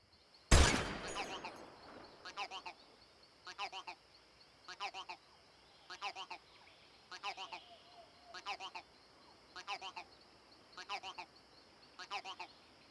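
A single loud AK-47 shot rings out in Metal Gear Solid Delta and decays quickly. It is followed by a faint, steady pattern of short repeated tonal calls at regular intervals.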